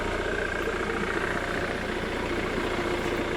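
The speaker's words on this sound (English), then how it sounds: "Engine's running, as you can hear." A diesel Jaguar X-type estate idles at a steady, even rumble with a low, continuous engine hum and no talk over it.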